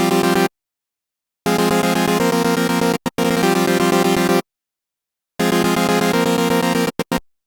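Analog-flavoured synth saw wave from an imperfect wavetable for a melodic techno patch, sounding in loud bright bursts of repeated chord stabs separated by sudden silences, alone without talk.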